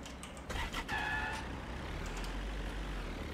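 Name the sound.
car driving in video game Storage Hunter Simulator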